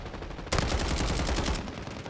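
Rapid automatic gunfire in the video game Call of Duty Warzone bursts in loud and close after half a second of quiet, rattling on continuously to the end with no talk over it.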